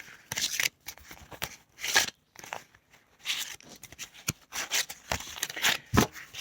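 A deck of cards shuffled by hand in short, uneven bursts of riffling and sliding, close and fairly clear, with brief quiet gaps between handfuls.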